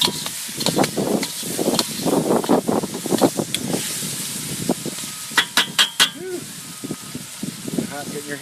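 Vegetable stir fry tossed in a very hot pan on an outdoor grill, with crackling sizzle and wind noise beneath someone talking close to the microphone, and a few sharp clanks of the pan being handled.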